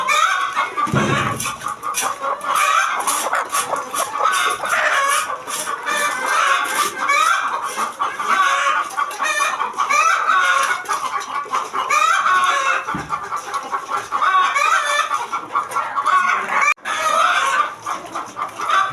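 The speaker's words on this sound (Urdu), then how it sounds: "یہ مرغیوں کی شور زیادہ ہے" Chickens in a coop cluck and squawk constantly, a dense loud flock chattering close by with overlapping calls and occasional sharper cries, no pause throughout.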